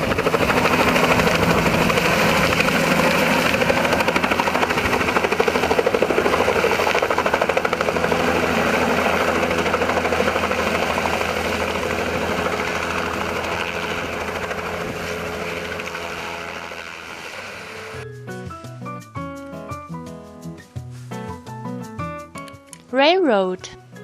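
A helicopter engine and rotor give a loud, continuous droning whir that fades gradually over about seventeen seconds, after which a light musical jingle takes over.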